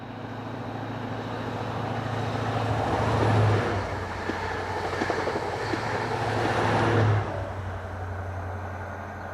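An HST passenger train with two power cars, 43182 and 43131, powers north on the Edinburgh to Inverness service. Its heavy, rumbling roar swells as it passes and then holds steady, with no voices.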